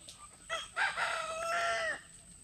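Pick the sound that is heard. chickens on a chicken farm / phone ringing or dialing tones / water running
chickens on a chicken farm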